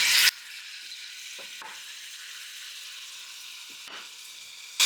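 Hot cooking oil sizzles and hisses steadily in a home kitchen pan, a faint continuous frying sound with a few louder bursts at the start and end, no talking.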